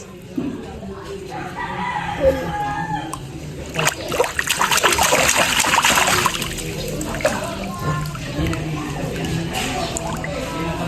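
Water splashes and trickles in a child's swimming pool, busy and irregular with bursts of splatter, while voices talk and call out over it.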